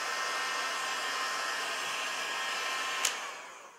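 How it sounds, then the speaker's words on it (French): A heat gun blows a steady, loud rush of hot air to dry leather, then a click as it shuts off and the whoosh fades. "j'utilise un décapeur"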